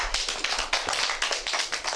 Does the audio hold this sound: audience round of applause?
yes